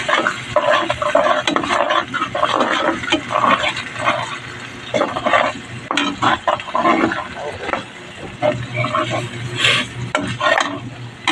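Egg being mixed by hand into corned beef with malunggay in a bowl, giving steady, close scraping and clattering stirring sounds that run throughout with brief pauses, while people talk over it.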